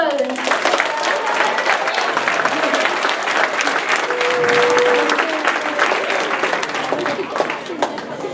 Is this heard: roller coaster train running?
no